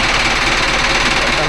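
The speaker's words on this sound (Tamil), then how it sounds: "ரொம்ப நாள் கழிச்சு பெரிய வண்டி ஸ்டார்ட் ஆகுமாடா? ஸ்டார்ட் ஆகிருச்சு." A Mahindra Arjun Novo 605 DI tractor diesel engine runs steadily just after starting, with a loud, continuous close-up rumble and knock that carries on without a break.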